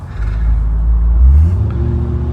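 A 2023 Corvette C8 Stingray Z51 mid-engine car launches with a deep, loud engine drone. It holds steady, then climbs in pitch partway through as the revs rise, heard close from inside the car.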